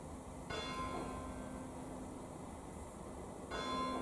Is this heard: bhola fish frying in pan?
no